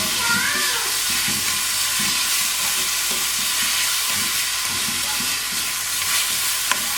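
Chopped tomatoes fry in a pan for a Kerala-style chicken keema sandwich filling, giving a steady broad sizzle with soft stirring scrapes throughout, close and continuous with no talk.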